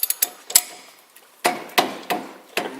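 A 19 mm socket wrench working a bolt loose on a 2010 Chevy Silverado wheel-bearing job: sharp metallic clicks and knocks in two clusters with a short pause between, close and fairly crisp.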